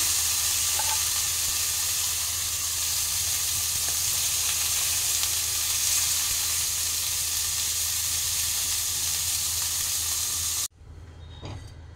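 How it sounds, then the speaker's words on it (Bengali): Fish frying in oil in a pan (a kadai), with a steady, loud sizzle that runs unbroken for about ten seconds before cutting off abruptly into quieter kitchen sounds. "মাছটা আমার অপর পিঠ ভাজা হয়ে গেছে"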